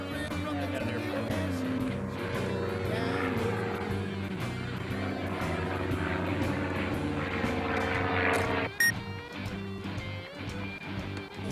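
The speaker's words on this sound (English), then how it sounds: "And I got an airplane." A propeller airplane drones steadily overhead near Parkville Lake, a loud continuous engine hum with shifting tones that dips near the end.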